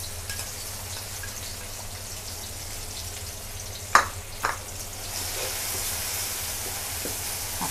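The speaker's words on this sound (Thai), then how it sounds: "ก็แดงจินดานะคะกับกระเทียมผัดให้หอมนะคะ" Thai garlic stir-fried in hot oil in a pan gives a steady close sizzle and hiss, with two sharp clinks of a utensil on the pan near the middle and a louder spitting rush toward the end.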